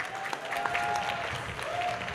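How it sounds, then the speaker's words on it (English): Steady applause from a crowd at the Kenya Red Cross Volunteer Awards 2024, a continuous wash of many hands clapping at moderate loudness for about two seconds, with a faint tonal whistle drifting through. "another loud of applause"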